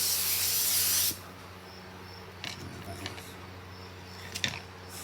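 A paint spray gun lays a light mist of candy paint over a metalflake lowrider panel: a loud, close, steady hiss for about a second, then it cuts off, leaving quiet room tone with a few faint handling knocks.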